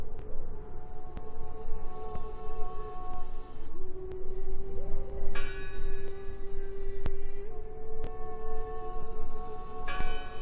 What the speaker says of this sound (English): Listen! The bell!